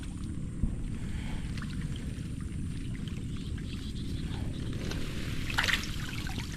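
Water rushes and gurgles steadily in a low, continuous flow, with a brief splashy trickle near the end.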